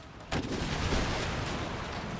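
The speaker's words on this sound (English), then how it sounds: "Second unit running up, ready to fire." A close-range musket volley from line infantry in a Napoleonic-style battle game: a sharp crackling burst of massed gunfire that sets off a loud, sustained roar of shots and battle noise.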